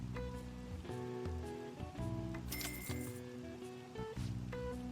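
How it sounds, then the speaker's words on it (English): Steady rain patters through the Persona 5 video game scene, a constant hiss running beneath looping background music with bright chiming notes. "It's raining today"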